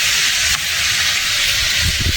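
Cauliflower and potatoes fry in a pan with a steady broadband hiss and sizzle, close and fairly loud, a few faint low thumps near the end.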